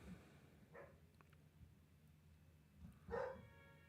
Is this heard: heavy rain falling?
no